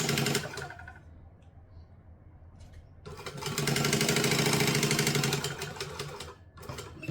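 Sewing machine chain stitching a seam on a troll plush, running in bursts of rapid mechanical stitching that pauses briefly and then speeds up again, close and steady.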